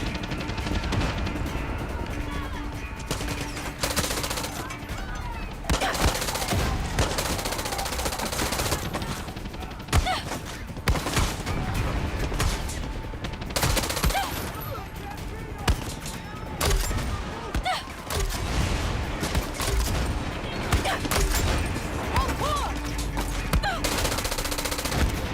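Submachine gun fire in the video game Far Cry 6 rattles in loud, dense bursts with explosions and impacts mixed in, sustained throughout with a voice talking over the action at times.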